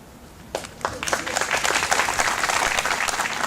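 Commencement audience at Morgan Park Academy breaking into applause for the speaker's son Malcolm, starting with a few scattered claps and swelling into loud, dense clapping from a large crowd.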